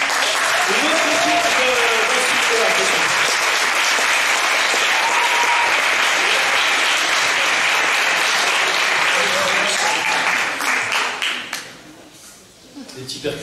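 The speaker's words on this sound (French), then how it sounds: "une autre équipe qu'on applaudit" A concert audience applauds a children's team, dense clapping filling the hall for about eleven seconds while voices call out underneath, then the clapping tapers off and fades out near the end.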